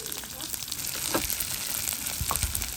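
Onion, garlic and curry leaves fry in hot oil for a sambal, giving a steady, close, dense sizzle with a few soft stirring clicks.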